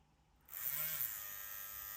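An EZ P3 Pro Turbo tattoo pen machine switches into power mode and starts a steady, high-pitched electric buzz close to the mic. The hum holds constant after a quiet start, with no talk.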